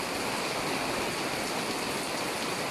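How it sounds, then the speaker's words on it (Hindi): Heavy rain pours steadily in Kharian after a spell of summer heat, a dense, even hiss filling the whole clip with no breaks or voices. "बहुत तेज़ बारिश हो रही है।"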